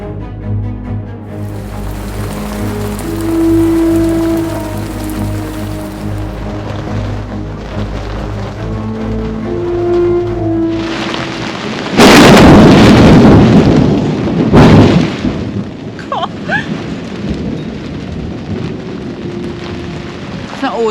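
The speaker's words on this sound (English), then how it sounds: "It's the first time we've seen a lot of rainfall." Heavy rain pours around a sailboat in the Mediterranean as storm clouds build ahead of a Mistral, a steady loud hiss broken by a sharp, powerful thunder crack partway through, with rumbling afterward.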